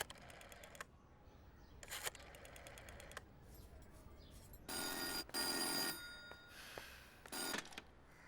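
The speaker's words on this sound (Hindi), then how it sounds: "फोन करना है आंटी, जेनी को" A telephone rings in several separate bursts, fairly faint and thin. Softer clicks and knocks come before it, and no one speaks.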